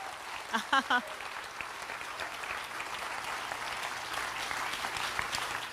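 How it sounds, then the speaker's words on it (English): Audience applause for Joe Biden at a 2019 event, a steady moderate wash of clapping heard from a distance, with a few brief voice-like tones near the start. "Let's give him one more round of applause."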